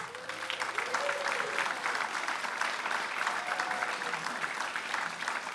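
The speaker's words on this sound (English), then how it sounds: "Nice round of applause for Brother Wade Faildo." Audience applause welcoming an MC at a Hawaiian music event, a dense steady round of clapping from a crowd that holds evenly throughout with no speech over it.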